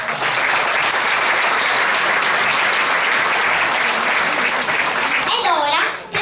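Warm, sustained applause from a theatre audience at an Italian amateur drama evening, dense steady clapping filling the room loudly throughout before tapering off at the end, with a voice briefly audible near the close.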